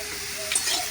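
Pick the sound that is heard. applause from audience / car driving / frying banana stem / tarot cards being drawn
frying banana stem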